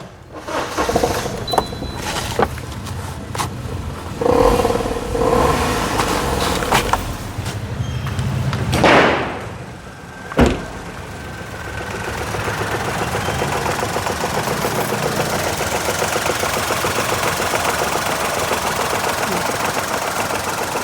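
A Maruti Suzuki Celerio three-cylinder car engine runs steadily, first with some clattering handling noises and a brief louder burst, then settling into a continuous even idle hum.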